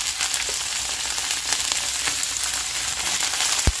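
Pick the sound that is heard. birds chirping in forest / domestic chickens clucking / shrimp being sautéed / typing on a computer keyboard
shrimp being sautéed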